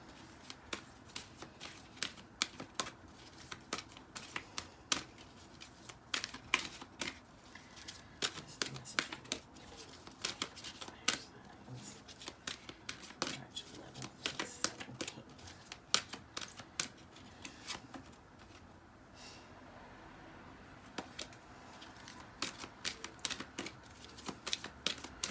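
Tarot cards being shuffled by hand make repeated crisp riffling bursts and soft slaps, close and fairly quiet, coming in irregular clusters across the whole stretch with short pauses between rounds.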